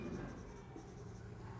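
Marker or chalk scratching on a classroom board in short strokes, close and fairly loud, with a teacher's voice faintly underneath.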